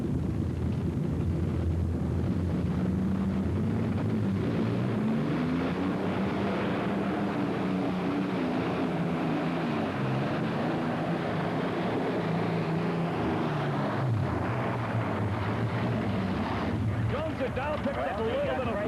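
An Allison-engined unlimited-class tractor pull vehicle roars continuously at a 1990 NTPA Grand National pull, a loud, thick, rumbling drone that shifts in pitch as it strains down the track, heard at a distance over crowd noise.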